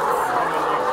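Laying hens on an egg farm of about 3,360 birds, a dense, continuous chorus of clucking from a large flock, loud and close in one brief moment.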